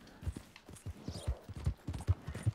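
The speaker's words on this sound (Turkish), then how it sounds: "Bu Belçika atı da bir yavaş gibi ya sanki." Belgian draft horse hooves clip-clop at a steady walking pace in Red Dead Redemption 2, a rhythmic series of soft dull thuds, fairly close and alone.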